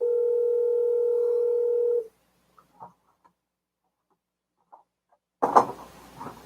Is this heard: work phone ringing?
yes